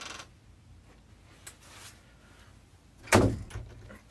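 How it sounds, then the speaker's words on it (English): A door that fails to shut properly, heard as a single sharp bang-like knock near the end, preceded by faint quiet rustles and knocks in an otherwise still room. "Didn't close the door right."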